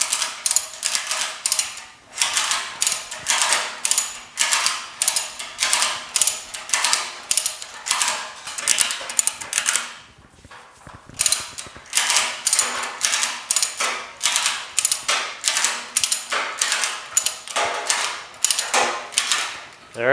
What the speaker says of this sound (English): Okay, I'm almost at the end where I can pull it with the ratchet strap.